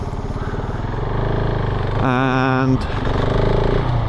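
A KTM 690 Enduro single-cylinder motorcycle engine while riding, a loud steady throbbing drone that briefly revs higher with a rising whine, heard under someone talking.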